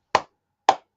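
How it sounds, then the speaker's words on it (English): Two crisp hand claps about half a second apart, close and loud, marking the two syllables of a word, with silence around them and no talking. "you can simply clap"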